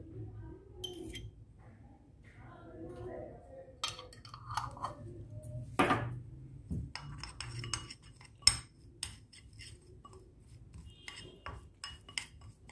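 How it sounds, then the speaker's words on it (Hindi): Tamarind pulp is stirred and mixed with chilli pickle ingredients, giving irregular spoon scrapes and clinks against a bowl, with sharper metallic taps scattered throughout and someone talking quietly between them. "इसको मैं अच्छी तरह से मिक्स कर रही हूँ।"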